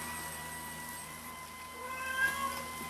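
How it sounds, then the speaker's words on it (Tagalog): A pet cat meows at home, faint and somewhat distant, with a drawn-out wavering call that rises briefly near the end over a quiet background hum. "Pabida rin yung pusa namin."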